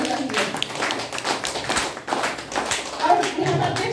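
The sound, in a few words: audience clapping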